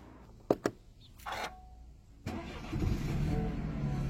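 Car engine cranks after a couple of sharp clicks, then catches and settles into a steady, loud idle close by.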